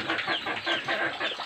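Dense chorus of chickens clucking continuously, fairly loud and close, with overlapping calls and a busy farmyard background.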